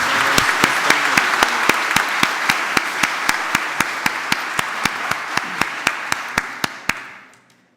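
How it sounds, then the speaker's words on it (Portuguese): An audience at a solemn Teachers' Day ceremony applauds, a full, steady wash of clapping with a sharp, regular beat of louder claps running through it, then it tapers and fades out near the end. "Uma salva de palmas a todas as personalidades presentes."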